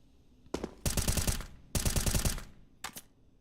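Rapid automatic gunfire bursts in a Counter-Strike match on the Anubis map, two long loud volleys of fast shots followed by a brief short burst, close and sharp with no talk.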